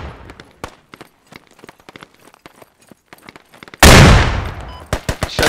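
Gunfire in the military shooter game Squad: scattered sharp single shots and short bursts crack out over several seconds, then a loud blast erupts, followed by more quick shots close by.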